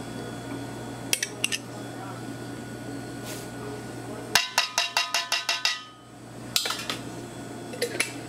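Crab cake ingredients are mixed in a bowl with mayonnaise and breadcrumbs. The spoon strikes the bowl in a quick regular run of about eight clinks, and a few scattered knocks fall before and after over a steady appliance hum.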